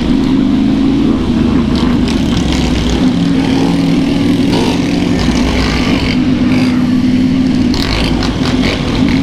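Motorcycles with loud straight-pipe exhausts drone at a street ride gathering, with a steady loud engine hum and scattered throttle bursts throughout, close by.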